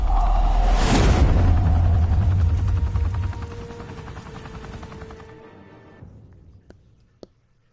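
Enemies in Batman Telltale open fire in a loud, close burst of rapid gunshots that rumbles on and then fades to near silence, leaving only a few faint clicks.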